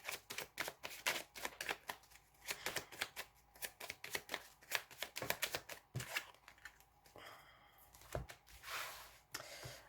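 Tarot cards shuffled by hand for a reading, a long run of quick riffling flutters and soft slaps, close and fairly quiet, with a brief airy rustle near the end.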